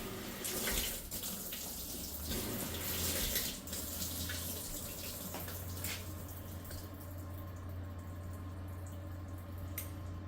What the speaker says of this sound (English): it's going to add a little bit of water before it starts to agitate